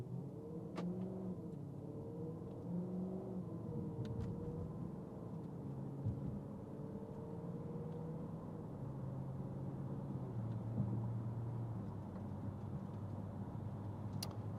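A 2014 Audi RS5 pulling away and cruising, heard from inside the cabin as a low, smooth, subdued engine rumble and road noise with gentle rises in pitch as it accelerates.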